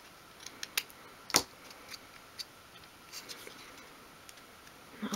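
Scissors snip an overhanging flap off a 1/12th scale dollhouse kitchen storage unit, with a few quiet, sharp cuts spaced irregularly in a quiet room and one louder snip.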